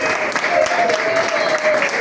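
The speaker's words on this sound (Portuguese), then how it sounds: "pedir uma salva de palmas pelo trabalho que desenvolveu por essa instituição" A room of listeners at a cultural heritage discussion applauds, a brief, loud, close burst of clapping with a faint tone and some murmuring voices beneath it.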